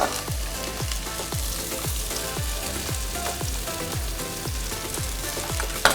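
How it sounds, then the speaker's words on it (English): Onions sauté in a pan with a continuous crackling sizzle, while a regular series of low, dull thumps repeats about every half second underneath. "you want to get in the first pan just onions that are going to be sauteed and caramelized"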